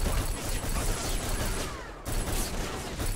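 Gunfire in a PS2/Xbox-era action shooter mission, a dense, continuous fusillade of distant shots and battle noise that holds steady throughout, briefly dipping near the middle.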